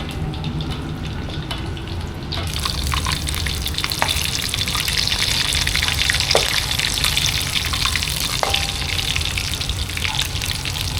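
Chicken coated in cornflakes fries in hot oil on a rooftop, a loud continuous sizzle and bubbling with scattered pops and crackles throughout, close and alone.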